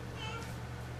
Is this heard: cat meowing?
yes